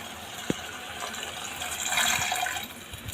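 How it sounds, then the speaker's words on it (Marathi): Water poured into a pan of besan vadi curry, a steady close gushing splash that swells in the middle and then eases off, with a single knock near the start. "त्याच भांड्यात आपण पाणी टाकून ते तेवढंच पाणी ह्याच्यामध्ये ॲड करू"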